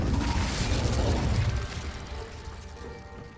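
Spell blasts from Confringo and Incendio in the Hogwarts Legacy video game, a loud booming burst with crackling rumble that fades over a few seconds, no voices present.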